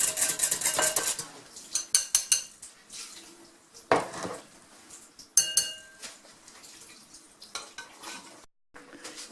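A spoon stirs dissolved yeast in a bowl while making Japanese Hokkaido milk bread, giving irregular clinks and scrapes of utensil against the bowl, close and alone, with brief pauses between strokes.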